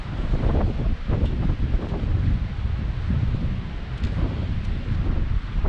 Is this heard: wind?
yes